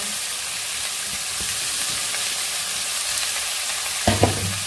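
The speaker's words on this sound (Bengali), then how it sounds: "বাকি সবজিগুলো ঢেলে দেবো" Vegetables for a quick wheat flour breakfast dish are tipped into a hot pan and stirred, giving a steady close sizzle with light scraping and a brief low voice near the end.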